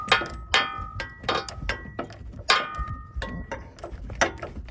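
Ratcheting clicks from a wrench turning a 19 mm nut on a Fox 2.0 front shock being installed on a 2024 Ford F250, heard as close, irregular bursts of metallic ticking with short pauses between turns.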